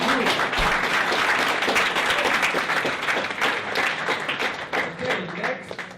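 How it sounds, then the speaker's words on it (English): Dense, sustained applause from the audience at a London startup pitch event, loud and steady for about six seconds with some clapping rhythm and crowd noise mixed in. "Round of applause for you."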